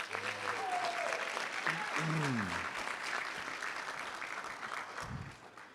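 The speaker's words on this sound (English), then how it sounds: "So how about a big round of applause?" Dense applause from a crowd fills a graduation ceremony, loud and continuous, with a voice speaking over it before the clapping fades toward the end.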